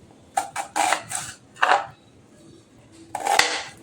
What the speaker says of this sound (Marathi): आणि आता हा कांदा कट करून घेते